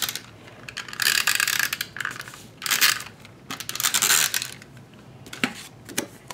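Snail adhesive tape runner rolled across plain card stock, giving repeated bursts of bright ratcheting clicks and tape crackle in several short strokes, close and fairly loud with no talking.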